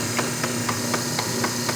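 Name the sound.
Hobart A200 mixer running in second gear, grease noise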